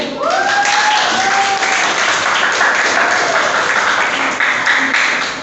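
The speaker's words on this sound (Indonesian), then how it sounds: "Oke, tepuk tangan dulu deh" A classroom of students applauds during a quiz, loud continuous clapping close by that holds steady for about five seconds, with a few voices calling out briefly over it.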